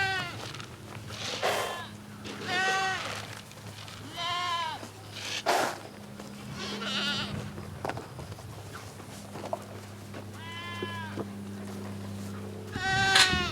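Goats bleat at feeding time, with several loud, wavering calls coming close by at irregular intervals over a steady background hum, along with some footsteps and shuffling.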